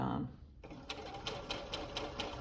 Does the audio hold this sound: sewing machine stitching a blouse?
yes